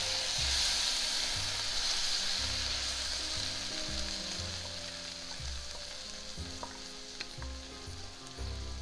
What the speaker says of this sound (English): we are going to add our marinara sauce